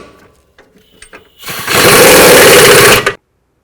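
Impact wrench on the rear upper control arm bolt nut of a 2007-16 GMC Acadia: after a few faint clicks, a loud, close, rattling buzz runs for about a second and a half, then cuts off abruptly.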